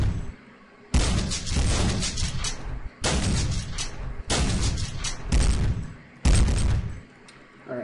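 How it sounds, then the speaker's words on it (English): Shotgun blasts in the video game Dark Flow: five loud, separate booming shots spaced roughly one to two seconds apart, each ringing out with a long rumbling tail before the next. "Or should we use our shotgun? Let's use our shotgun."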